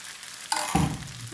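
Thin neer dosa rice batter poured onto a hot pan, starting quiet, then a sudden sharp hiss as batter meets the metal, followed by a lower bubbling sizzle close by.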